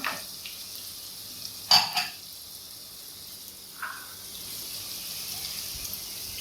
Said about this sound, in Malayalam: ക്യാബേജ്, എല്ലാം ഒന്നിങ്ങനെ ഫ്രൈ ചെയ്ത് കൊടുക്കാം.